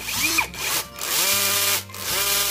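A KingPro brushless cordless hammer drill running in screw mode at its lowest clutch setting, a loud steady motor whine that dips briefly twice and changes pitch, with no voices.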